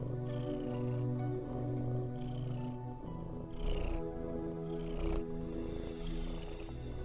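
Cats in a cozy café purr and meow steadily and close by, a continuous warm rumble with drawn-out feline calls layered over it.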